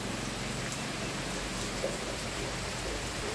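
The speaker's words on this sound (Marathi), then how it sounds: "खूप पाऊस पडत आहे." Heavy rain pours steadily in a village during the monsoon, a dense, even hiss that holds at one level throughout with no other distinct sounds.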